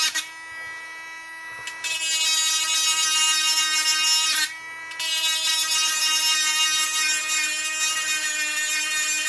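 A small power tool sands a resin model part with a high, buzzing whine that stays steady and close. It cuts out briefly twice and then resumes at the same pitch.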